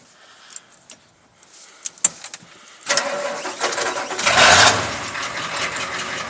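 A Ford 6.9L diesel cold-starts after its glow plug cycle, with brand new glow plugs and relay: a few faint clicks, then the engine catches at about three seconds and settles into a loud, steady, rough diesel idle.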